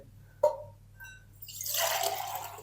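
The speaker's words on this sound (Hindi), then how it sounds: "अब हम ना इसके अंदर शामिल करेंगे तकरीबन 4 कप पानी" Water pours into a pot of mixed lentils for dal, a steady splashing rush building after a couple of faint clinks and continuing to the end, moderately close with no talking.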